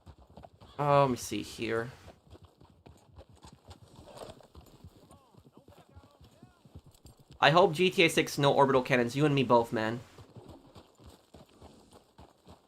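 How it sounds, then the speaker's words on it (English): Horse hooves clip-clop in a steady walking rhythm in the game Red Dead Online, continuous throughout and moderately close, while someone talks over it in two stretches. "get on this horse here"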